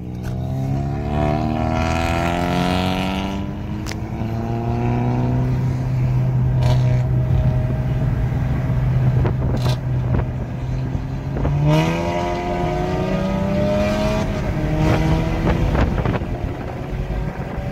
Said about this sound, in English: Alright, GTI versus Camaro.